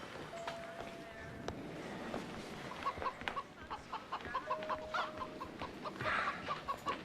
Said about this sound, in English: You can't bring a chicken in here.